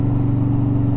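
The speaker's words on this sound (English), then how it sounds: "I think y'all can probably still hear that exhaust." A steady, low idling motorcycle engine rumble with a throbbing pulse through a loud S&S 2-into-1 exhaust, close and continuous, no voices.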